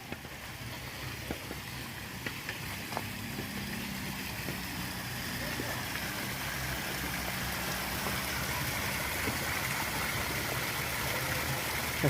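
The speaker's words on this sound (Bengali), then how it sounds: "এই সেই শীতল নালা।" A cold mountain stream, low on water in the dry season, runs as a steady, broad rushing wash that holds even throughout, with no talk over it.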